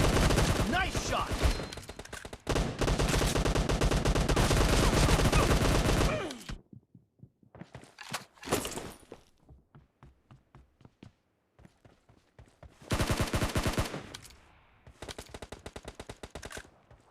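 Bursts of rapid automatic gunfire in PUBG, a shooter video game, come in long dense volleys separated by single shots and quieter gaps, loud and close, with another burst returning near the end.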